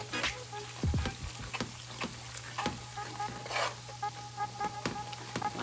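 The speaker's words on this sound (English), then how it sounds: "We're adding the Salisbury steak back in. And you let it cook to your browning." Salisbury steak browns in a hot pan with a steady, close sizzle, broken by occasional scrapes and stirring clicks; no one speaks.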